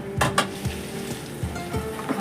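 Cauliflower fritters frying in hot oil in a pan, a steady sizzle under a few sharp scrapes and clinks as they are stirred, close and fairly loud.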